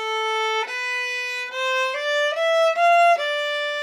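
Solo viola starts on an open string, then plays a first-finger note and shifts that finger into second position, stepping through a short series of clean bowed notes up close.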